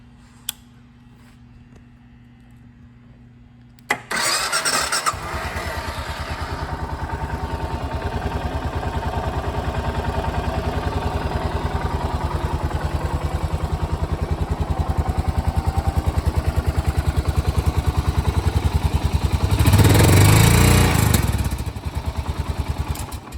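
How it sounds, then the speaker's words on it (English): A carbureted 2017 Suzuki Boulevard S40 motorcycle cranks and fires after a quiet moment, then settles into a steady, close, loud single-cylinder idle with a brief rev near the end. "Bike is carbureted, but will also start right up."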